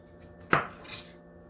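A single knife chop through a peeled potato on a board, a sharp close thud followed by a fainter slicing scrape, with no one speaking.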